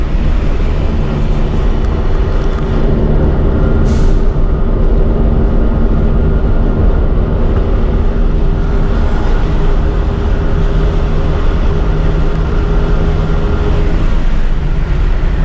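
An LMTV military truck engine idles while rolling downhill, a low, steady rumble under continuous road and wind noise, loud and close throughout.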